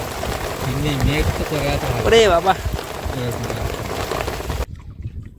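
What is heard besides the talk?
heavy rain while fishing on a boat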